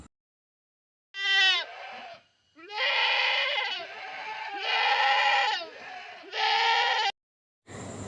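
Four loud, close bleats in a row with short silent gaps between them, clear and alone without talk.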